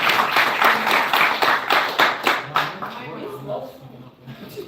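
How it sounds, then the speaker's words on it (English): Audience hand claps at a live IRL show ring out in a loud burst of rhythmic clapping that thins and fades, giving way to murmuring voices. "Please put a hand clap together for Miss Tay."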